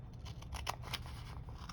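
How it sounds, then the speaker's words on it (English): Scissors snip repeatedly through packaging material while notepads are made from salvaged junk, a quick run of crisp, close cuts over a low steady hum. "I can do those with my scissors because I have a spot"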